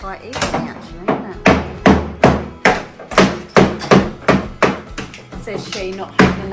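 Repeated hammer blows knocking pieces out of a recess during indoor work, a steady series of sharp, loud thuds about every half second, with people talking lightly underneath.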